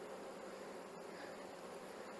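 Honey bees humming steadily inside an opened hive during a winter prep inspection, a dense continuous buzz close by with no voices.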